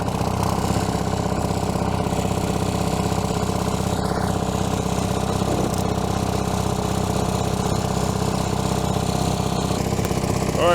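An old Allis Chalmers crawler engine, left sitting for years, runs steadily near at hand with a constant rumbling chug that goes on throughout and has no talk over it.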